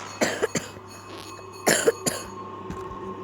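Two pairs of sharp, close coughs break a quiet background, each burst a quick double cough separated by a short pause.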